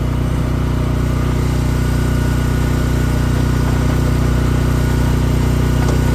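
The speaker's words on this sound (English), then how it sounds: "so I'm having to use my generator." Portable generator running outdoors beside a 2014 Ram truck during welding, giving a loud, steady engine drone with an even hum and no breaks or voices.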